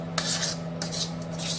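A metal spoon scrapes and stirs lentils roasting in a pan on the stove, in three short scraping bursts over a steady low hum, close and moderately loud, with no talking.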